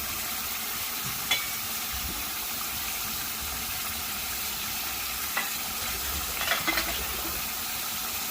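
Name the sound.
boiled ground spinach frying and being stirred for chicken curry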